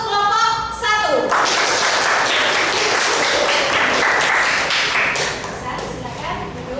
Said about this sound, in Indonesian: Oke, aplaus untuk kelompok 1.